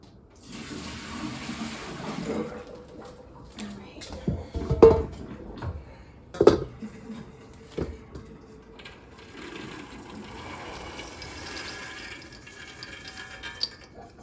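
Water is tipped out of a container in a few short splashing pours and sloshes, with a couple of sharp knocks and clunks in between, close by against a quiet background.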